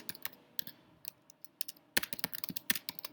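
Quiet keystrokes on a computer keyboard come in short uneven bursts as a listing description is typed, with a quicker run of clicks toward the end.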